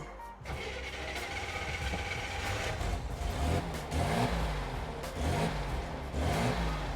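A 1963 Chevrolet Corvair Monza Spyder turbo engine cranks and catches, then settles into a steady close idle broken by several throttle blips that swell and fade.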